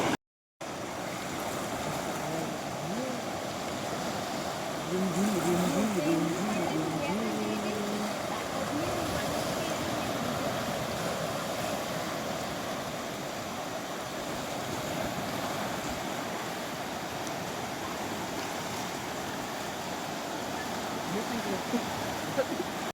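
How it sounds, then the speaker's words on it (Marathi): The Purna river in heavy flood, its water rushing past in a steady, loud broadband roar that runs unbroken through the whole stretch, with some wind buffeting the microphone. "आपली पूर्ण नदी आहे आणि हिला खूप मोठा पूर आलेला आहे"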